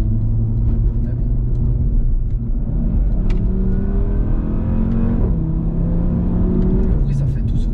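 An Audi RS3 sports car's 400-horsepower engine rumbles loudly and revs up and down in rising and falling sweeps, heard from inside with occasional voices underneath.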